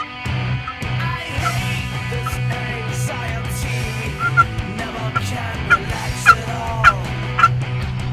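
Wild turkeys gobble repeatedly in the field during a hunt, sharp rattling bursts rising over a steady low background, several calls spread across the stretch at moderate distance.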